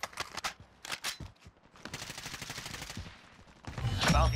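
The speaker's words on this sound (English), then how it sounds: "I swear that people are shooting at them." Bursts of automatic gunfire in a battle royale shooter video game, rapid cracking volleys broken by short pauses, ending in a louder sustained burst, with no talk over it.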